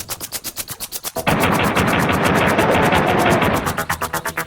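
Rapid gunfire from Duke's pistol in Duke Nukem 64, a loud run of evenly spaced shots that merges into a dense, roaring burst of blasts before the separate shots return.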